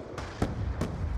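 Explosions from a concussion grenade in Black Ops 2, a few quick sharp pops within about a second, moderately loud with no voices.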